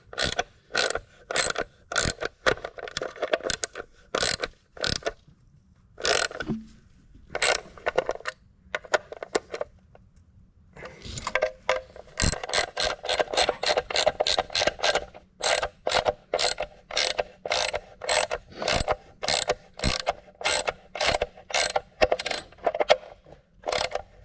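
Ratcheting while tightening P-clips on the three-point linkage of a John Deere 4020 tractor, with rapid, loud, close metallic clicks in steady bursts separated by short pauses.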